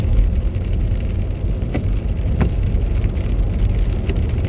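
Steady rain falls on a January day, a constant close hiss with occasional brief drop impacts and a low rumbling underlayer, continuous and fairly loud with no one speaking.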